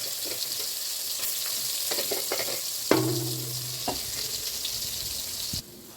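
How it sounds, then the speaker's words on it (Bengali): Prawns sizzle and hiss in a hot kadai as they are stir-fried with onion, ginger, garlic, green chilli and coriander. A steady loud frying sound is broken by a few scraping stirs and clanks. "এবারে আমি চিংড়ি মাছটা কড়াতে দিয়ে কষে নেব"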